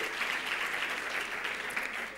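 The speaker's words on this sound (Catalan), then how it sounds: "un aplaudiment molt fort per l'Elina i el Franco" A crowd claps continuously, a dense, steady round of applause filling the whole moment.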